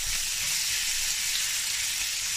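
Chicken meat sizzles in a pan for a poultry stroganoff, a steady close hiss of frying with no break and no talk over it.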